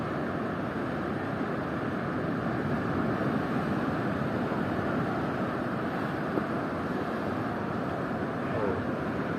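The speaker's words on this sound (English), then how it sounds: "Now we can see some waves." Ocean surf washing in steadily at Puerto de la Cruz, Tenerife, a continuous broadband roar of waves with some wind noise on the microphone, fairly loud and unbroken throughout.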